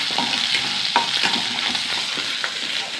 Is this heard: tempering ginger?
yes